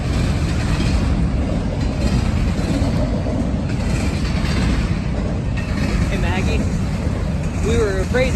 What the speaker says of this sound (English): We were afraid that that was an oil train that was going to block it